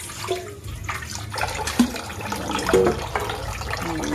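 Beef skin rinsed under running water while preparing kilawin, a steady close splash and gush of flowing water with small clatters, no talking.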